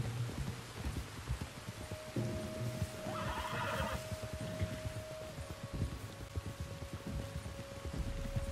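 Horse riding in Red Dead Redemption 2: hooves clop in a steady rhythm while the horse lets out a loud whinny partway through, all over a bed of falling rain and without speech.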